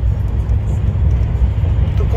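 Truck tyres roll over the joints of a concrete road on the way to Poland, a steady loud low rumble of cab road noise with faint periodic thumps and no talk.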